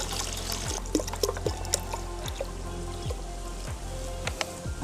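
Cow urine poured from a container into a one-litre cup, a close, continuous liquid splashing and trickling with small gurgles and knocks, no talking.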